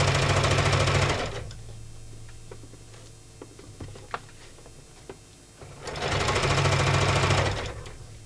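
An embroidery sewing machine stitching a sew-shop handbag, running loud and steady for about a second, pausing with light clicks, then running again near the end; no one talks.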